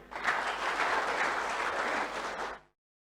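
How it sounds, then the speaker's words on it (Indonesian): Audience applause at a church synod session, a dense burst of clapping lasting about two and a half seconds before cutting off abruptly. "Tepuk tangan dulu."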